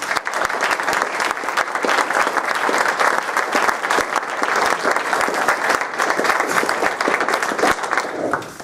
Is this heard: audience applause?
yes